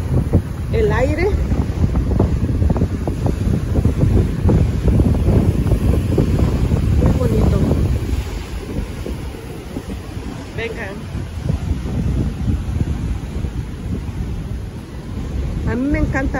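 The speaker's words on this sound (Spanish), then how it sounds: "Pueden oír el sonido del océano" Wind buffeting the microphone over a steady roar of ocean waves at sea, loud and continuous, with brief bird-like chirps and a voice occasionally speaking underneath.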